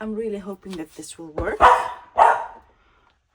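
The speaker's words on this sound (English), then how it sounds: "Sorry about the dog. She heard someone." A pet dog barks in two loud, close bursts inside a home after a stretch of someone talking, then the room falls quiet.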